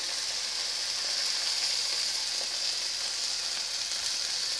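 Eggs fry in a pan with a steady, bright sizzling hiss that stays even and close throughout, with no voices.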